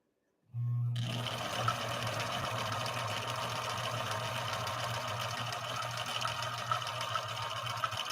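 A Viking 6020 sewing machine stitches a decorative orange stitch, starting abruptly and then running at a steady rapid whir with a mechanical hum, close and continuous without speech.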